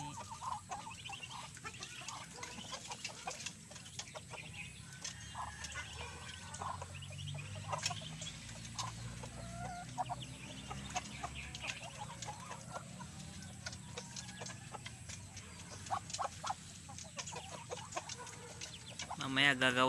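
Newly hatched ducklings peep in a steady, busy chatter of small high calls, close by and continuous throughout, with occasional louder chirps standing out.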